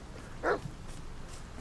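A dog in the video game The Medium gives a single short bark or whimper partway through, fairly close, over a low, steady ambient game backdrop.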